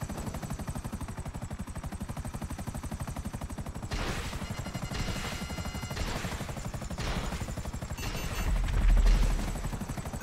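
Helicopter rotor chopping steadily throughout a GTA 5 gameplay scene, loud and continuous, with bursts of gunfire breaking in and a heavier low thump near the end.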